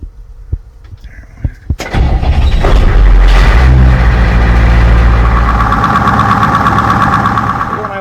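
A Ford F6 rat rod truck engine turns over after a few clicks and knocks, then starts and runs loud and close with a rough, throbbing idle that swells as it pulls onto the road.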